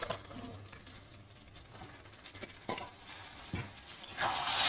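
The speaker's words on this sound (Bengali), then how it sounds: "এবারে কাবলি ছোলাগুলো দিয়ে দিচ্ছি" Kabuli chickpeas tumble into a pan of sizzling braised mutton and get stirred, a steady frying hiss with scraping spoon strokes and a few clinks, rising louder at the end.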